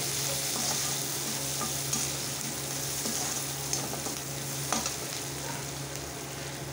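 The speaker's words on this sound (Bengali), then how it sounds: "রসুন আর আদা কুচানো, এগুলো আমি একটু আবারও ভেজে নেব ভালো করে।" Chopped onion, garlic and ginger frying in a pan for a paneer dish give a steady, close sizzle, with occasional scrapes of stirring and no talking.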